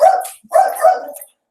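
A dog barks close by: one sharp bark, a brief pause, then a quick double bark, loud and alone, set off by a UPS delivery.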